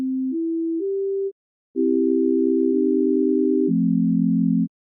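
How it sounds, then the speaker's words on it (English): Pure sine wave tones stepping through a short rising three-note sequence, a brief gap, then a steady held tone dropping to a lower pitch, smooth and clean with no other sounds. "Next is the sine wave."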